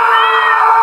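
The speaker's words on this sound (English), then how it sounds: "Oh, it's a cat." A single drawn-out cat meow from the video game Melon Playground, loud and close, with a steady tonal quality and no other sounds around it.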